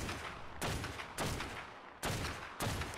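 Gunfire in Ark Survival Evolved, four sharp shots spaced about half a second to a second apart, each with a lingering tail, fairly close and alone without talk.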